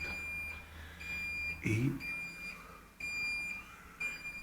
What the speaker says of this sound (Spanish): Es la alarma de que está la puerta abierta mucho rato.